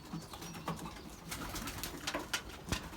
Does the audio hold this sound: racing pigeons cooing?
yes